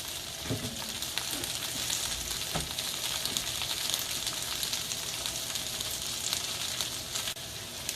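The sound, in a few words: red cabbage frying and caramelizing in a pan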